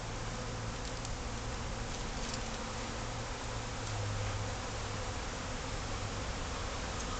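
Honey bees buzz steadily in an open hive box during an installation check, a dense continuous drone close by with a faint hum underneath and no speech.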